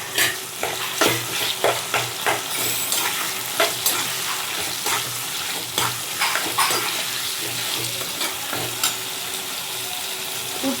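Chopped onion and tomato fry in a pan with steady sizzling, broken by repeated stirring scrapes and clinks of a spoon at an uneven rhythm; no one speaks.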